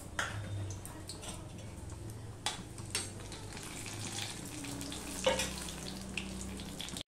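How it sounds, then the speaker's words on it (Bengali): Quiet crackling sizzle of whole cumin, a dry red chilli and a bay leaf tempering in hot oil for mixed dal, with scattered sharp pops and ticks over a soft steady hiss. "একটা শুকনো লঙ্কা দেখো ফোড়নে দিয়ে দিলাম, তার সাথে দিয়ে দিলাম একটা তেজপাতা"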